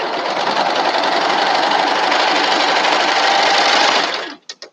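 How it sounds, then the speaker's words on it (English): A sewing machine runs steadily and loud, stitching fabric for baby bloomers in one continuous whirring burst before stopping, followed by a couple of brief clicks. "right now I'm just sewing my bummies that I make"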